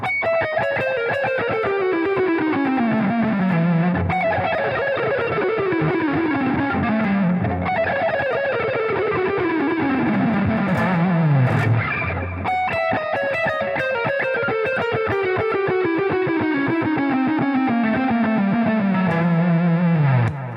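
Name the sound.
electric guitar playing diminished scale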